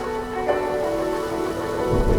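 Steady rain falling on the ground as a sound effect for a story of the great flood, a continuous even hiss of moderate loudness with no voices.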